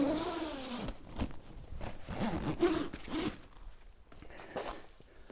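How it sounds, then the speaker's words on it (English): A zipper runs around a window panel on a campervan air awning, a fairly close, uneven rasping in several pulls across the fabric with small pauses between strokes. "So as you'll see, you can just zip that all the way around."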